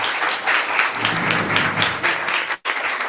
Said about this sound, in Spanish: Pues muchísimas gracias a Mario, por favor un aplauso.